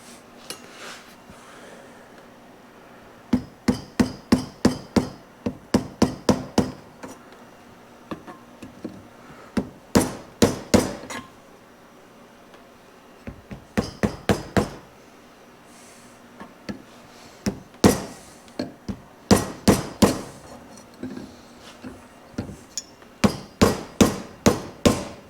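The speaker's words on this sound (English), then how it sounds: "I pounded that one a little bit too far" A front axle seal on a Kioti tractor being driven in with a pipe and floor flange, heard as bursts of sharp, ringing metallic hammer blows in quick rhythmic runs, separated by short pauses.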